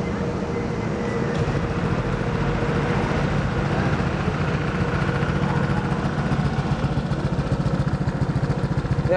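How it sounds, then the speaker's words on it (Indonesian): A Honda PCX 150 scooter with an aftermarket Aero exhaust idles steadily with a deep, even burbling exhaust note, close and continuous, no voices. "ini adalah bunyi dari knalpot Aero ya"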